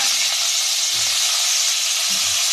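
Ginger, garlic and curry leaves frying in hot oil give a loud, steady broadband hiss that runs unbroken throughout, with a few soft low thumps underneath.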